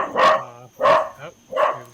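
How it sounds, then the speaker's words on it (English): A dog barks three times in quick succession, loud and close, each bark full and resonant with brief pauses between them. "Excuse the barking."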